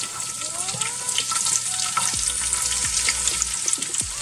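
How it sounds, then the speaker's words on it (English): Diced onions frying with goat meat in a pan on the stove, making a loud, constant close sizzle with light spatula scrapes and clinks mixed in. "I'm gonna add onions."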